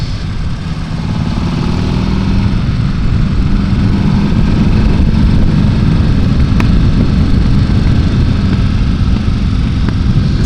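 A Buell motorcycle engine pulls steadily in third gear on a warm-up run along the Tail of the Dragon, a loud continuous drone with wind rush that holds an even level throughout, with no talking.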